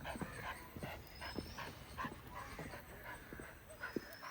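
A dog during leash training gives short, scattered yips and whimpering barks, fairly close, against a low steady background with no one speaking.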